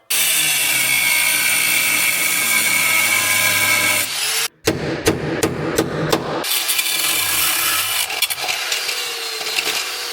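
A Harbor Freight power tool whirs loudly and steadily, then cuts out abruptly; several sharp clacks and knocks of work on car seats follow, then the tool buzzes again, close up.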